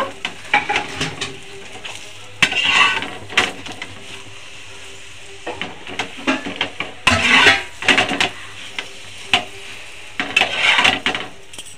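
Spinach paratha frying in a pan for breakfast, with bursts of sizzling and the clatter of a spatula turning and pressing the flatbread, loud and close, alternating with quieter stretches and no talking.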